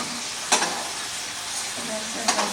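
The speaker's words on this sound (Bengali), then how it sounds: "হালকা করে এই তেলেই আমি পেঁপেটা ভেজে নেব" Papaya pieces fry lightly in oil, giving a soft, continuous sizzle broken by two sharp stirring scrapes, with faint talk in the background.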